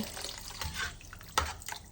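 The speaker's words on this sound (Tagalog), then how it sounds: "At lagyan natin ng kaunting tubig." Water is poured into a pot of beef biryani mix with yogurt, a soft splashing and trickling that comes in a few uneven bursts, faint and close.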